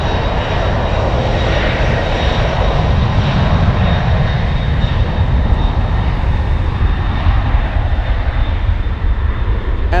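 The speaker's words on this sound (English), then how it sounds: "They throttled up, full power, out of Frankfurt." A FedEx jet takes off at full power from Frankfurt airport, a loud, steady, unbroken engine roar filling the whole stretch with no talking.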